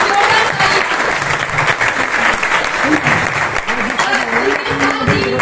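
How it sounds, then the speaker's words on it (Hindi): Loud, dense applause from a seminar audience fills the hall continuously, with crowd noise and a voice talking faintly beneath it. "उनके लिए भी एक बार जोरदार ताली"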